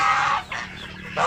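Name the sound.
chickens clucking in a chicken coop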